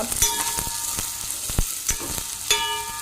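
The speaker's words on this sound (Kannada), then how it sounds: "ದೊಡ್ಡ ನೀರುಳ್ಳಿಯನ್ನು ಕಟ್ ಮಾಡಿ ತೊಗೊಂಡಿದ್ದೇನೆ ಇವಾಗ ಇದನ್ನು ಫ್ರೈ ಮಾಡ್ತೇನೆ" Chopped large onion fries in a pan with a steady sizzle, broken by several sharp scraping stir strokes at irregular intervals, close and fairly loud, with no talk.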